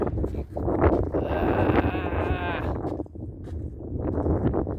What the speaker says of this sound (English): It's kind of a cold, chilly wind.